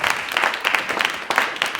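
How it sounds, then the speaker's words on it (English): Applause for actors after a theatre rehearsal of a Guadeloupean street play, a modest group clapping in uneven bursts, close and fairly loud, with no talk over it. "So a round of applause for the actors."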